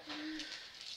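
A bird gives a short cooing call, soft and somewhat distant, against a quiet background hiss.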